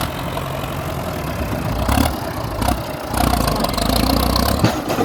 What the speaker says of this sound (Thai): โอ้เสียงอะไรเนี่ย เสียงเกียร์ลั่นหรือว่าเสียงผาน โอ้น่าจะเสียงผานนะครับผานดันนะครับ